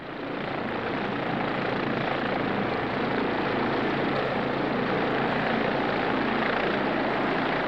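A helicopter flies close by, its rotor wash and engine forming a loud, unbroken roar that stays steady throughout.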